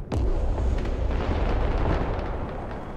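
A supply depot blows up in the Broken Arrow video game: one loud, sharp blast that rolls into a heavy, sustained rumble with scattered crackling debris, holding steady for about three seconds.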